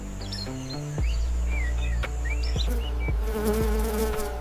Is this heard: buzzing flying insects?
yes